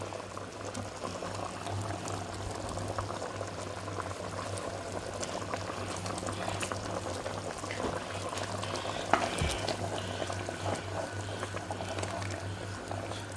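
Veal stew simmering in a pot while being stirred, a steady bubbling boil with a low hum beneath and occasional soft spoon knocks, heard close with no speech.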